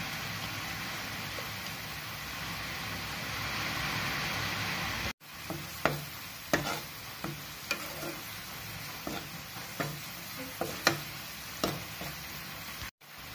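Chili powder and turmeric fry in a pan for phool makhana curry, producing a steady soft sizzle, joined halfway by regular scraping clicks of a spoon stirring against the pan.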